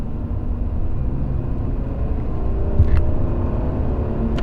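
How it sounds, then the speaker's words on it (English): A Toyota Century V12 sedan accelerates under throttle from a low cruise, its smooth, deep engine rumble swelling slightly and holding steady, heard from inside the car. "Step on the throttle."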